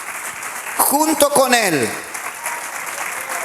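Church congregation applauding in a steady wash of clapping while a preacher's voice speaks briefly over it, the clapping continuing evenly after the voice stops.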